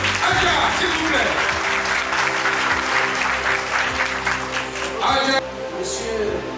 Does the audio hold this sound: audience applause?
yes